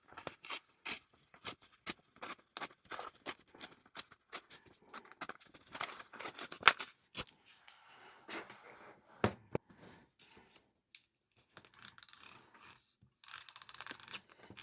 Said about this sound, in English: I think I'm going to kind of cut it here.